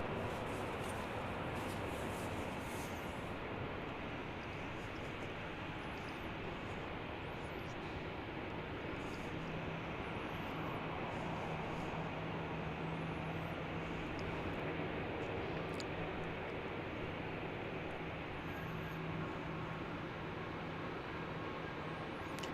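Delta airliner taking off from Salt Lake City airport gives a steady, distant broadband engine roar that holds evenly throughout, faint and continuous, with no talk over it.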